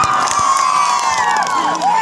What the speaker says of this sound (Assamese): এটা জোৰকৈ হাত চাপৰি সকলোৱে মিলি